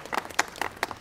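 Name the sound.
audience applause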